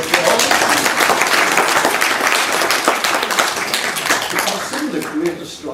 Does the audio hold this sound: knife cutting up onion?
no